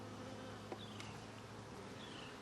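Honeybees buzz on hive frames during a hive inspection, a soft continuous drone with occasional individual bees flying past, fairly faint and steady throughout.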